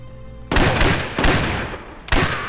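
Booming shotgun blasts in the 2003 video game Western Outlaw, three loud close shots with long, noisy rumbling tails and no talk.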